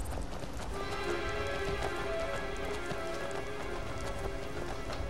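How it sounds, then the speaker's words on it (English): Steady rain patters in an outdoor scene in the Skyrim video game, an even, continuous wash of drops with light rhythmic hoof-like clatter mixed in and no talking. "Despite the rain, it's really quite nice out here."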